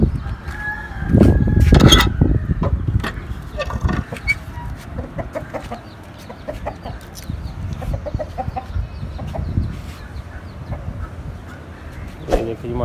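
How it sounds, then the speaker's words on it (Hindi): A rooster clucks and squawks in short bursts, close by, with people talking in the background and some rustling. "ये हमारा मुर्गा काफ़ी गुस्से में है"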